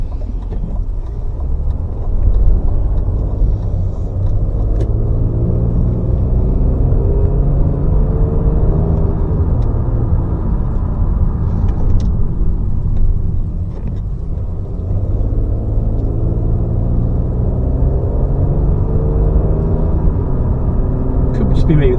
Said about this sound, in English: This engine just seems a bit more grunty